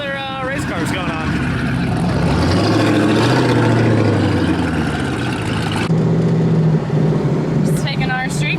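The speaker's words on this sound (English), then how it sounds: "Just taking our streetcar out for a nice little cruise." A Ford Mustang GT street car cruises with a steady engine drone that rises and falls as it accelerates, loud and close, while voices talk over it throughout.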